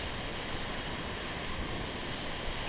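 Waves roll onto Bhogwe Beach in Malvan on the Konkan coast, a steady, distant wash of surf blended with wind rumble, no voices.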